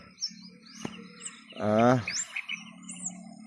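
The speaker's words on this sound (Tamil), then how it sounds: "பறவைகளோட சத்தங்களை, ஒலிகளை வந்து கேட்கக்கூடிய மாதிரி இருக்குது" Birds calling outdoors, including cuckoos, crows and sparrows: scattered high chirps and tweets over a low hum, with one louder, harsher call in the middle, fairly close, no talk.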